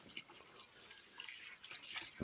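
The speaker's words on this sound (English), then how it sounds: "filling up the sink with some really cold water" A kitchen sink filling with very cold water and vinegar for cleaning a freshly caught pike, with a steady faint patter and drip of running water and no talking.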